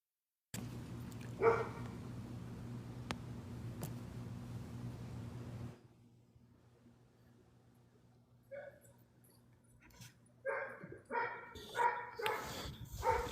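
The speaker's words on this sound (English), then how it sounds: "Oh, I hear them dogs." Dogs bark in short, scattered bursts, some faint and distant, others sharper toward the end, over a low steady hum.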